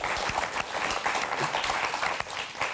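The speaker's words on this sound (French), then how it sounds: "Sophie, Rémi, qu'on va applaudir très fort, s'il vous plaît." A studio audience on the Motus game show claps loudly for the contestants, a dense, sustained burst of many hands with no talking over it.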